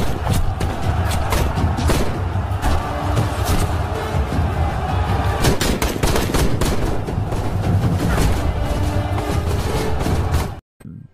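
Sustained automatic gunfire from troops firing on advancing attackers in a battle at a fortress, dense overlapping bursts over a loud rumbling battle bed for about ten seconds before cutting off abruptly.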